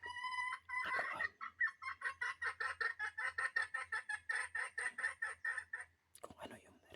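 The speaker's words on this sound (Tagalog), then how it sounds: "Kung ano yung naririnig yun na kakak ng manok. Fake yun. Maliit na speaker yun." A rapid run of chicken clucks played through a small speaker in a jungle, thin and tinny, in an otherwise quiet setting.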